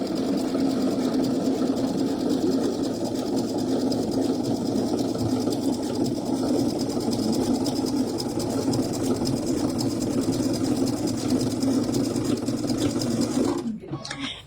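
A sewing machine stitches an applique for a sewing-bee quilt using a J foot, running in a steady, continuous mechanical whir for nearly the whole stretch before stopping abruptly near the end.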